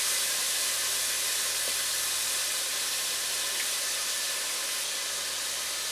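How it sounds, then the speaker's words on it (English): Two large chopped onions frying in bacon fat in a pan, a steady loud sizzle and hiss running evenly throughout with no talk. "with the bacon fat cook the onions"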